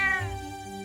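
A cat in the video game Trails of Cold Steel gives one short, close meow, heard alone with no talking.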